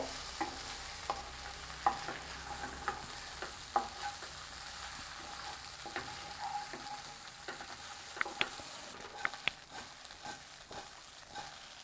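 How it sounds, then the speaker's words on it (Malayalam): Cut pieces of leftover idli tossed and stirred in a frying pan, with soft repeated spatula taps and scrapes over a low, quiet sizzle, close and without speech. "ഇഡ്ഡലി ചേർത്ത് കൊടുത്തു കഴിഞ്ഞാൽ വളരെ സോഫ്റ്റായിട്ട് വേണം നമ്മളിത് മിക്സ് ചെയ്ത് കൊടുക്കാനായിട്ട്"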